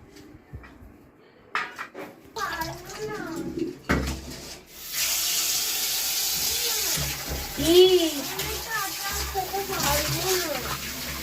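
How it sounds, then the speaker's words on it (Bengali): Cut potatoes for homemade potato chips are washed and rubbed by hand in water, repeated two to three times. Close sloshing, splashing and rubbing sounds run through the clip, with a voice talking over them. "এবারে আমি এগুলোকে ভালো করে 2 থেকে 3 বার জলের মধ্যে ধুয়ে নেব।"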